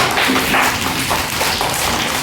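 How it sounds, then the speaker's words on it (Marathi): Kindergarten children clap together to welcome their teachers at a Children's Day celebration: a loud, dense, continuous patter of many small hands, close and sustained with no talking. "सर्वांनी टाळ्या वाजवा बाळांनो"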